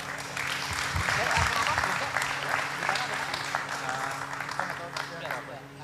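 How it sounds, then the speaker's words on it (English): An indoor audience at a cycling history conference breaks into sustained applause, a dense wash of clapping that holds steady for several seconds and then thins slightly. "So give it applause for the Margono."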